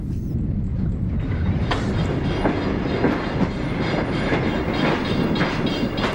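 The Indian Pacific train rolls along the rails between Adelaide and Kalgoorlie, a continuous close rumble with a regular clickety-clack of wheels over rail joints, heard from on board with no talk.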